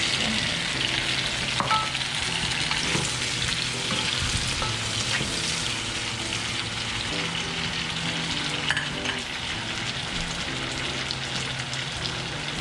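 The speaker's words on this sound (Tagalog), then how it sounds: "Sunod na natin yung ating sibuyas. At isunod na rin natin yung ating kamatis." Onion and tomato sauté in a hot pan with a steady, dense sizzle and occasional stirring scrapes, close and continuous throughout.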